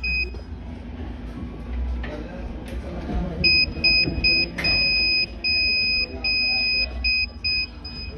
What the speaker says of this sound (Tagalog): Itong code naman ay gumagamit ng Morse code.